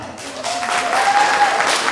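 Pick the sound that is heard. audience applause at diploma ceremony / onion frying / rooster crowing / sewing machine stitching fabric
audience applause at diploma ceremony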